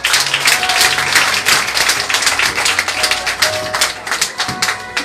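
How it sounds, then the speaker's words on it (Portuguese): A church congregation applauds during a Brazilian evangelical service, a steady wash of many hands clapping for several seconds with faint voices underneath. "Dê uma linda salva de palmas para Jesus."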